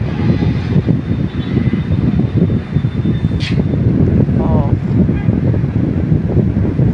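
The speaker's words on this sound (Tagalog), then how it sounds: "Mahangin din maingay pa yung aircon. Naririnig nyo baga?" A strong outdoor wind roars and buffets the microphone continuously, with a noisy air conditioner droning underneath, loud and close throughout.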